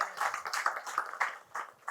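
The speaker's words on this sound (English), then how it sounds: "Can we give a clap to that?" An audience claps at a gala event, a steady patter of many hands sustained for about two seconds with no voices over it.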